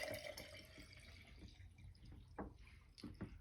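Liquid rabbit skin glue mixture pours into a container with soft, continuous splashing and dripping, close and fairly quiet, with a few brief louder gurgles toward the end.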